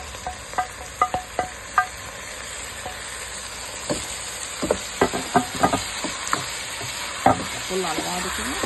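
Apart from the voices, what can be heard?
chopped tomatoes added to frying eggplant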